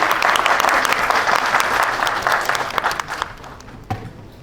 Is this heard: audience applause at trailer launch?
yes